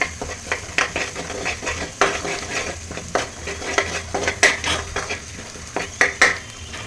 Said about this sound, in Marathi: त्याला छानसं परतून घेऊया